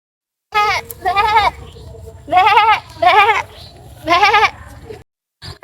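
Goats bleat repeatedly at close range, five or so wavering, nasal calls in quick succession with short pauses between them.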